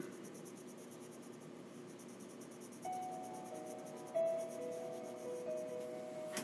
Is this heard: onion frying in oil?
no